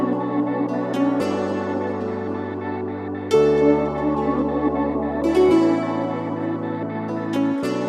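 Pop beat samples play together in a layered loop, a deep sustained bass shifting between notes under a busy mix of chords and percussive hits, steady and full throughout with no speech.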